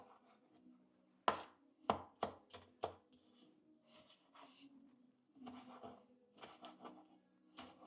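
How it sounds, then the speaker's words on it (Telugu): A knife chopping tomatoes on a cutting board for mutton curry, a series of sharp, close, irregular knocks with quiet pauses between bursts and faint kitchen rustle underneath. "టమాటాలు కొంచెం చిన్నగానే కట్ చేసుకోండి."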